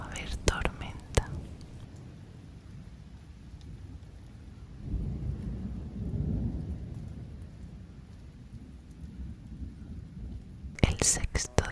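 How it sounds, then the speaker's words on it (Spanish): Thunder rumbles through a steady rain during a storm in Cantabria, Spain, with a low swell of distant rolling thunder midway and soft whispering near the start and end. "De camino al coche ya empezó a haber tormenta."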